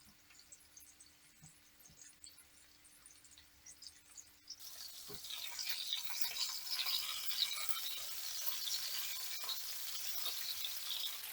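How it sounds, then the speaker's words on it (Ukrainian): Quiet at first, then a sudden burst of hissing, crackling sizzle as meatballs hit hot oil in a pan, continuing steadily at close range. "Буду смажити до коричневого стану."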